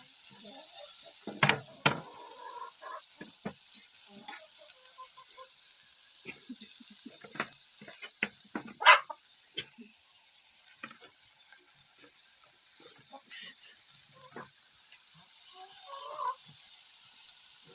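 Tomatoes and spinach frying in a pot over a village cooking fire, stirred with a spoon that gives faint, sporadic scrapes and knocks over a soft, steady sizzle.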